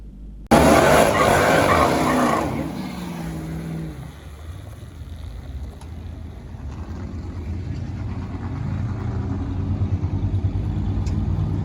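A Jeep Trackhawk at Atco Raceway launches hard on a drag strip pass with a loud engine roar and tire noise for about two seconds, then drops to a lower, rougher running sound after a broken axle, continuing alone without talk.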